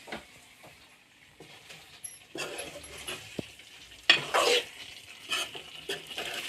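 Chicken liver fry with masala stirred in a pan: intermittent scraping and clinking of a utensil against the pan over a soft sizzle, with a few sharper metallic scrapes partway through, close by and without speech.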